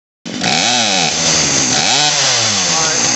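A Poulan Pro PP4018 chainsaw engine starts abruptly and runs loud and close, its pitch rising and falling as the throttle is worked, alone without talk.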